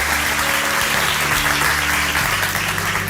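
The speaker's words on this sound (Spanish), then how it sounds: "Démosle un aplauso a ellos" A church congregation breaks into steady, dense applause that fills the space evenly from start to finish, with no voices rising above it.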